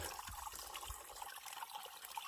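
Water trickles steadily at a trail water source on a long-distance hiking route, a soft continuous faint running with a gentle bright wash and no voices.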